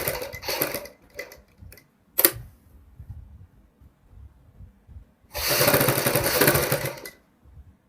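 A sewing machine stitches the neckline of a kurti, running in a few short clicking bursts early on and then one longer, louder continuous run of stitching near the end, with quiet pauses between.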